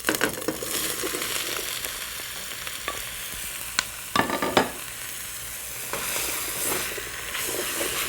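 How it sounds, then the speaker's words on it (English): Apples sauté with toasted spices and ginger in a hot pan, giving a continuous sizzle broken by spoon scrapes and crackling bursts as the pieces are stirred. The sound is close, with no voice. "Now we have to saute the apples with those spices for about 5 minutes."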